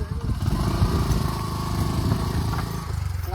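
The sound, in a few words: motorcycle engine running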